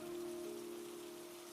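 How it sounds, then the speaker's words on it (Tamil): Steady rain falls continuously in a dense, even wash, with a faint constant hum running underneath throughout. "வெளியே பார்த்தா நம்ம ஜேகே தான் மழையில் நனைஞ்சு வந்திருக்கான்."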